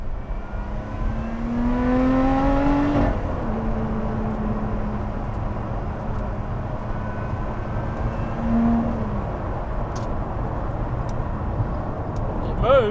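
Lotus Exige Cup 430 sports car accelerating hard in a straight line, engine note rising steadily through the gears with a clear upshift, loud and close from inside the cabin, continuous over the whole stretch.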